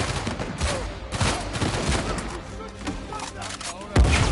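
Gunfire in Uncharted 4, with repeated loud bursts and volleys of shots over a rumbling background and a heavy thump near the end.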